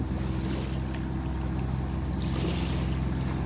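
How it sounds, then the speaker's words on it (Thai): A junk-buying boat on the Chao Phraya river chugs along with a steady, low engine drone. Water wash and wind noise sit close under the motor. "เรือรับซื้อของเก่าในแม่น้ำเจ้าพระยาและป่าสัก"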